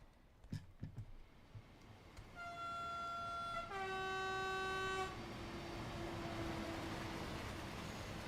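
A very long train in the Train Sim World 4 S-Bahn Vorarlberg route passes by, sounding a sustained two-tone horn followed by a lower steady blast over continuous rumbling rail noise.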